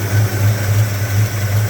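A 1984 Chevy C10 pickup's 350 V8 with a 4-speed idles after a cold start, a steady loud low rumble with a slightly pulsing rhythm running throughout, close by and alone.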